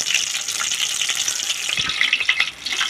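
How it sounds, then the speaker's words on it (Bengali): Soybean satay pieces fry in hot oil, giving a steady, dense sizzle with crackling pops throughout and no voices, loud and close. "আমি এরকমভাবেই ভেজে নিচ্ছি সবগুলো"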